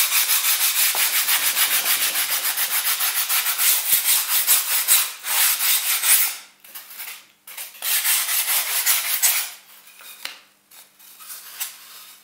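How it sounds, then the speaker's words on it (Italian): Sandpaper rubbed over polystyrene foam while shaping pieces for a nativity scene, a loud close rasping scrape in long steady back-and-forth strokes that break into shorter passes toward the end. "lo scartiamo con un po' di carta vetrata"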